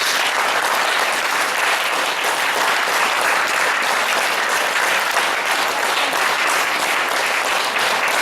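A seated audience at a talk on natural healing with the five elements claps steadily and densely, a loud, even wash of applause running unbroken throughout.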